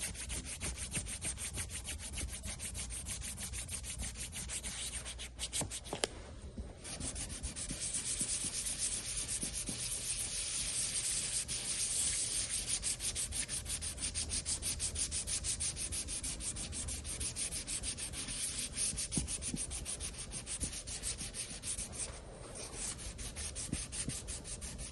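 A sanding block rubbed back and forth over a guitar headstock with black binding, a continuous close scratchy rasp of abrasive on wood with a brief pause partway through, no voices.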